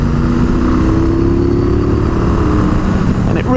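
A Triumph Bobber motorcycle engine thrums steadily up close during an overtake, a loud continuous low rumble with a slowly shifting pitch.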